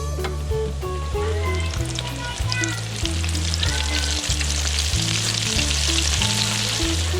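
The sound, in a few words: crappie fillets frying in a fryer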